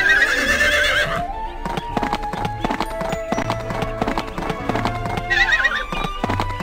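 Horse hooves clip-clop in a steady rhythm with a whinny near the start and another near the end, set against background music in the Barbie Riding Club video game.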